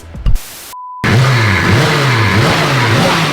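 After a few brief thumps and a short tone, a race car engine fires up loud and close, revving in repeated rising and falling sweeps.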